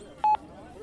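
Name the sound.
telephone number being dialed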